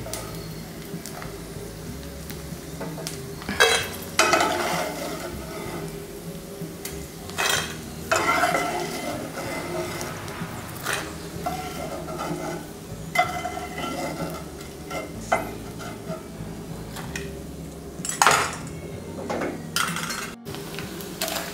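Fried edible gum (dink), puffed like popcorn in oil, being lifted out of a pan while making winter methi and aliv laddoos, with steady frying sizzle and repeated scraping, clinking ladle strokes against the pan, no talk.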